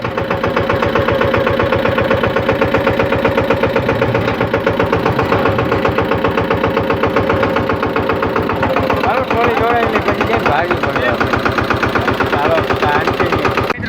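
A tractor with a trolley hitched behind runs steadily close by, its engine chugging in a fast, even pulse that stays loud for the whole stretch, with faint voices underneath.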